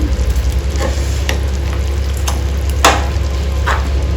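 Ridge gourd curry sizzling in a pan while being stirred, a loud close frying hiss with a low hum beneath and a few sharp scrapes of the spoon.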